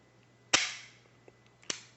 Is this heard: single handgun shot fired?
yes